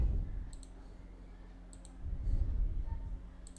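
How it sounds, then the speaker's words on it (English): Mouse double-clicks on a Windows computer, opening an extracted zip file: a few short, sharp click pairs spaced apart over low background hum, close and fairly quiet. "So just double left click it to extract this zip file."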